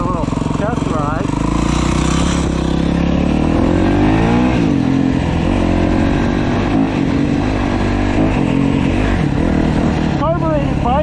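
A 2011 Yamaha YZ250 carbureted two-stroke dirt bike engine revs through rising and falling pitch sweeps on a test ride, loud and close, with steady engine drone throughout.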